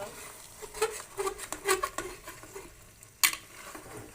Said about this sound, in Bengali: খাসির মাংস বুনা করতেছি